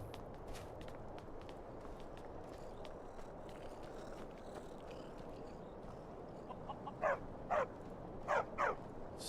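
A dog in the video game Skyrim barks several times near the end, two pairs of sharp close barks over steady game ambience and footsteps.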